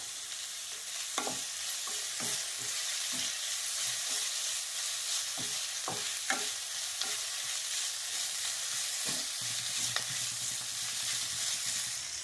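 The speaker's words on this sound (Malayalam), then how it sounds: "അതിനകത്തേക്ക് കറിവേപ്പില ചേർത്ത് കൊടുക്കാം." Curry leaves dropped into hot oil with onions in a pan for fish curry, a continuous soft sizzle with scattered crackles and pops, no talking.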